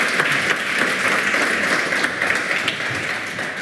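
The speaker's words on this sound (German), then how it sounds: "Vielleicht nochmal einen kurzen Applaus für Julian" Steady applause from an audience at a science slam, a dense wash of clapping at moderate level that continues evenly without a break.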